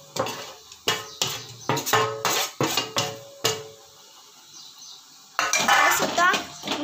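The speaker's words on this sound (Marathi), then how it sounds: "हे छान 1 ते 2 मिनटं परतून घ्यायचं।" Sprouted moth bean curry with crushed peanuts and coconut being stirred and sautéed in a pan, a series of close, sharp spoon scrapes and clinks against the metal in a steady rhythm, pausing briefly before a denser burst of clattering stirring.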